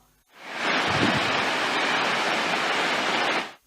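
A steady rush of falling water swells in, roars evenly for a few seconds, then cuts off abruptly.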